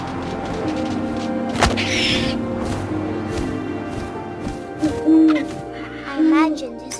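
An owl in the video game What Remains of Edith Finch hoots several times, the soft, rounded calls rising over faint wind and scattered thumps and knocks, with no voices.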